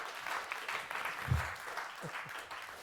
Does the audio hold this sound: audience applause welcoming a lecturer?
yes